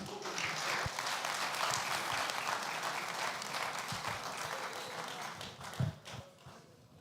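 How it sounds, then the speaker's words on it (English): A conference audience at a national non-oil export event claps loudly to welcome a logistics company managing director. The applause is thick and continuous, with a few heavier thumps, and it thins out toward the end. "Please clap for him some more."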